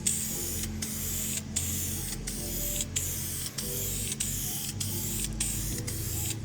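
A thick starting coat of tint sprayed onto a Crown Victoria taillight, heard as a close, steady hiss from the aerosol can, broken by about ten brief regular pauses as the spray sweeps side to side.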